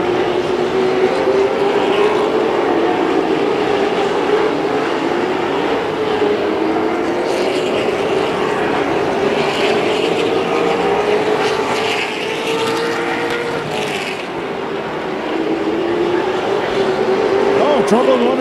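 Race cars lapping at the halfway point of the Firecracker 58 feature, a steady loud engine drone with slowly rising and falling pitch as the field circles, filling the whole stretch continuously.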